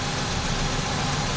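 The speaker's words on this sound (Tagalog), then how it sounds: "Pumapalya naman ang makina." Engine of a Suzuki Solio with automatic transmission, running rough and misfiring after a fuel injector is pulled, a dense, uneven mechanical churn heard up close.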